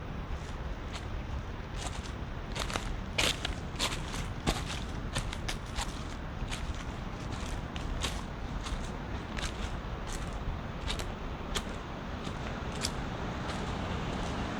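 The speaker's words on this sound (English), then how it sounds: "I will walk the rest of here just with my footprints or footsteps" Footsteps crunch along an old railway trail in Barbados, a steady series of sharp, close steps over a constant wash of outdoor background noise.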